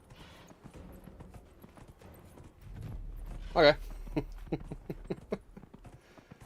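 Horse hooves clip-clopping in the video game Dragon Age: Inquisition, a run of distinct hoofbeats at a steady walking rhythm with a brief louder thud, under a short spoken word.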